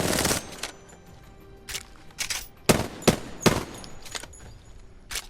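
An R99 submachine gun from Apex Legends fires in several sharp, rapid bursts separated by short pauses, loud and close, with a metallic rattle between the shots.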